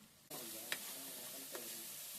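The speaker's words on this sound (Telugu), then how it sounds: "అల్లం వెల్లుల్లి పేస్ట్ 1 స్పూన్ అయితే యాడ్ చేసేసుకొని పచ్చి వాసన పోయే వరకు అయితే మీరు ఫ్రై చేసుకోండి" Ginger garlic paste starts frying in a pan for a spicy prawn curry, a sudden bright sizzle that holds steady and close, with two brief stirring scrapes over the hiss.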